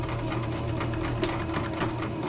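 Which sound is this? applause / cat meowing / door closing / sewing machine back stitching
sewing machine back stitching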